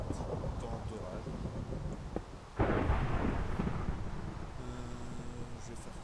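Thunder from a stormy sky in a building-and-survival video game, a loud rolling crack bursting in mid-clip over steady rain-like noise and continuing as a long rumble, with faint tonal game sounds near the end.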